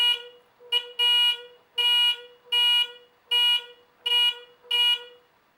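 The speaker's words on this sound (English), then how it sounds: "You'll just get that short buzz." Internal buzzer of a driveway alarm with dual infrared beams sounds in a series of short, harsh, evenly spaced buzzes, about seven in a row, loud and close with no talking.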